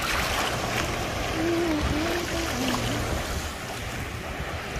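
Ocean waves rolling in on a warm Florida shore at sunset, a steady broad wash of surf and wind close to the microphone, with no one speaking.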